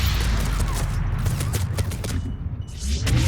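A Reaper-style gun fired in Mass Effect 3 video game, a loud, heavy sustained blast with rumbling low end that swells, dips briefly and surges again.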